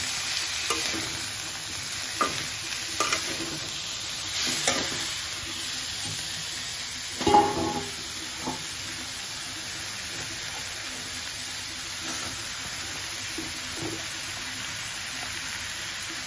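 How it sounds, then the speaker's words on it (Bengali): Leafy greens tossed into a hot pan hiss steadily in a low, even sizzle, with occasional light stirring clicks and one louder knock midway, and no one speaking. "এবার শাকগুলো ঢেলে নিলাম"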